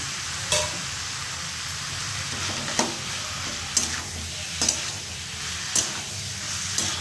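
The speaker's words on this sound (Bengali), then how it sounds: "টমেটো দিয়ে দিলাম।" Tomatoes fry in a pan for vegetable chicken, a continuous hissing sizzle with a spoon periodically stirring and tapping the pan in sharp, regular clicks.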